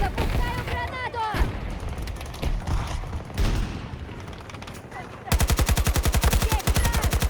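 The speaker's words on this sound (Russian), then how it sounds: "Там танк противника! Запускаю гранату!" Gunfire and a grenade launch in the shooter Battlefield 2042, with blasts and shots layered under game voice chatter, ending in a loud, rapid burst of automatic fire.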